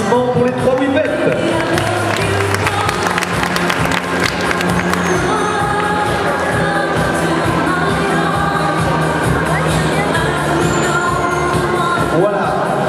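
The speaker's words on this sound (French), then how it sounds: "applaudissements pour les trois bipèdes." Crowd noise at an international dog show in Tarbes as three dogs are presented, with continuous hubbub and scattered clapping and cheering, backed by steady music and mixed with talk.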